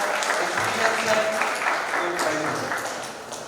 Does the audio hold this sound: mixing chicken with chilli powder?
no